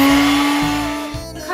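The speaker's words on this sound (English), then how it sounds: "This is put our ginger and our garlic into the blender" Electric kitchen blender whirring as it blends ginger and garlic with a little water, a loud steady motor whine with a few brief surges and dips in pitch near the end.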